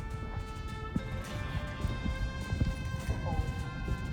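Horses' hooves clip-clopping at a hitching spot outside a bank, irregular thuds and knocks over a steady background hum with tonal ringing.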